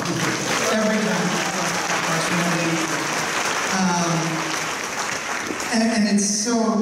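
Crowd applause at a comic convention panel for a cartoon series, sustained clapping that runs under a voice speaking throughout, with a brief swell of cheering near the end.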